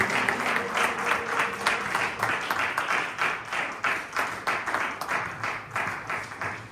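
Church congregation claps together in praise, a loud, crowded applause with a clear rhythmic pulse of unison claps that grows more regular toward the end.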